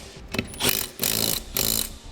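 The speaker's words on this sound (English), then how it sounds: "we can snug them down using a 13mm socket" A ratchet with a 13mm socket tightens the bolts of a Superwinch LT3000 winch on a 2006 Yamaha Kodiak ATV mount, giving several short bursts of close, buzzing mechanical clicking separated by brief pauses.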